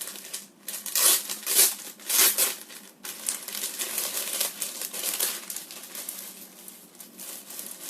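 Plastic packaging crinkles and rustles up close while Calci Illustro Ultima goalkeeper gloves are unboxed, with bursts of loud crackling followed by a steadier rustle.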